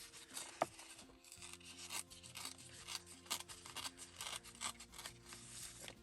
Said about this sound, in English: we can go ahead and just rip across the top of this